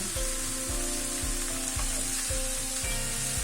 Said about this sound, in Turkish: Şu biraz sonra suyunu saldı mı güzelce pişmeye devam edecek bu.